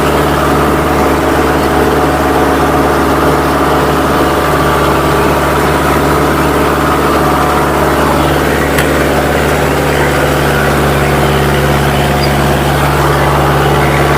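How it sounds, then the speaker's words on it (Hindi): A Kubota MU4501 tractor in L1 gear drives a 7-foot rotavator at 2200 rpm, its engine a loud, steady low drone with a dense mechanical churn that holds unchanged throughout, close by and with no voices. "ये L1 गियर है, 7 फीट का रोटावेटर है, 2200 आरपीएम पे ट्रैक्टर है।"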